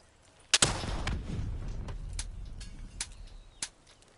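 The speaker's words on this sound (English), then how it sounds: "Oh, rocket launcher." A rocket launcher fires in a video game: a sudden loud blast followed by a rumbling explosion tail, then a few smaller sharp bangs spaced out over the next few seconds, with no talk.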